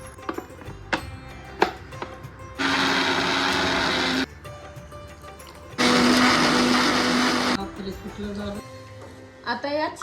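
A kitchen mixer grinds garlic, grated coconut, cumin, green chillies and coriander into a paste for Maharashtrian kadhi khichdi. Two loud whirring bursts of about two seconds each are separated by a pause, with clinks and handling noises between them.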